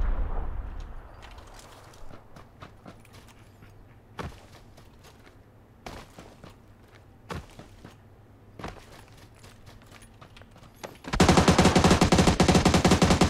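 Shots ring out in PUBG as the player is hit from behind: scattered sharp single gunshots and footsteps-like thuds, then a loud, sustained burst of close gunfire at the end.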